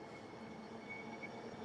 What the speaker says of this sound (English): So we let the train pass by.